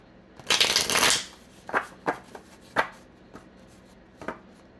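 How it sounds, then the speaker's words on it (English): A tarot card deck is riffled in one long, crisp shuffle, then cut with a few separate sharp card slaps and taps spaced apart, close and clear with no talking. "when I cut the deck"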